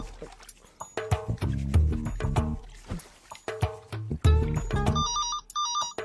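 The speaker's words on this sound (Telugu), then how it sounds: "ఏమంటే ఫోన్ ఎత్తండి, ఖాళీగానే ఉన్నారు కదా." A telephone rings in a Telugu film scene, a bright electronic ringtone with warbling tones that grows clearer toward the end, following a stretch of loud voices and music.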